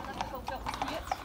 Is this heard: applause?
no